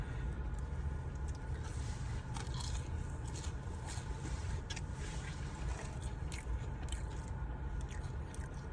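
Seasoned crinkle-cut fries from a hot chicken restaurant being chewed close to the mic, with steady crunchy biting and mouth noises filling the stretch, no talking.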